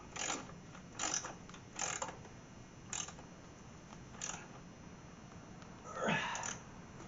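A ratchet tightening control arm bolts on a Ford F-series truck: quiet close bursts of rapid clicking, about six short runs separated by pauses, with no talking.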